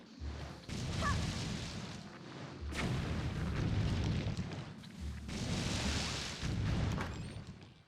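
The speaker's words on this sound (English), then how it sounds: "that's probably fireworks, isn't it?" Distant fireworks thud and rumble in a series of deep booms spaced a couple of seconds apart, each swelling into a low roll that fades before the next.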